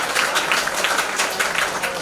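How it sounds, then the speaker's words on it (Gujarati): Audience applause for donors at a Guru Purnima gathering at an ashram in Mota Varachha, Surat: steady, dense clapping from a crowd, moderately loud and continuous throughout with no pauses. "એકવાર એમને જોરદાર તાળીઓથી વધાવી દો"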